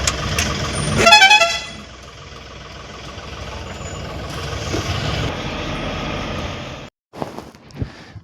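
A vehicle turns and pulls away outside a home, with a sharp horn-like burst near the start, then a steady engine and road rumble that cuts out briefly before a few knocks and rattles.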